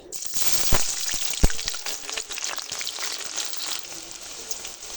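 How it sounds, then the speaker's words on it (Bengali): Chopped onions hit hot mustard oil in a pan, a bright crackling sizzle with a couple of sharp pops and clinks early on, settling into an even, close hiss. "কড়াইতে আমি সরিষার তেল দিয়েছি তেলটা খুব ভালো করে গরম হয়ে গেছে এবারে আমি দিয়ে দেবো পেঁয়াজ কুচি"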